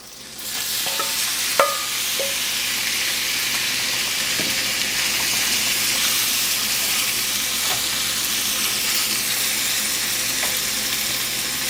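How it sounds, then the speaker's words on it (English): Shrimp for Cajun pasta sizzles in a hot pan, a loud, steady hiss that runs the whole time, with a few faint clinks early on and no talking. "So now you want to go ahead and add your shrimp."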